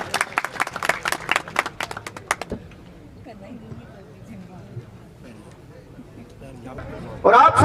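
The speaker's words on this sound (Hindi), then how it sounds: "जोरदार तालियां।" Loud, rapid clapping from a crowd at a BJP political gathering in India, filling the first couple of seconds, then dropping away under a speaking voice before a new burst of applause at the end.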